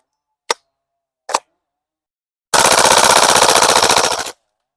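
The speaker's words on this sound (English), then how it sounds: "Third round, first gas fill, full auto test." An airsoft gas blowback HK UMP45 fires two single shots, then a loud, rapid full-auto burst of about two seconds, with crisp mechanical clacks close up and no talking.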